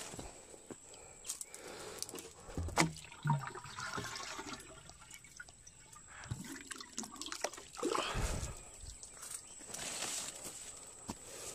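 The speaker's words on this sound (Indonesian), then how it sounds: "sekarang proses penyiraman sebelum saya meletakkan benih di dalam polybag saya akan siram dahulu" Water poured over soil in polybags before seeds are sown, heard as irregular splashing and trickling close by, with dripping and faint outdoor background.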